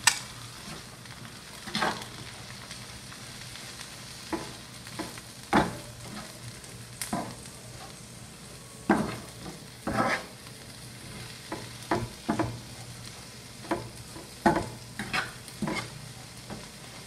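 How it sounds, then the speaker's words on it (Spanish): Tomato frying in a pan for machaca with egg, a low steady sizzle under repeated scraping strokes of a spoon, irregular stirring every second or two, close and fairly quiet. "sin dejar de mover para que no se queme, agregamos también el jitomate"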